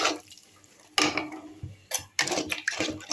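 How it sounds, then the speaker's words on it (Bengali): Water poured into an egg curry simmering in oil in a pan, heard as bursts of hissing, splashing liquid with sizzle, close and fairly loud, with no talking. "আমি এর মধ্যে এখন জল দিয়ে দেব।"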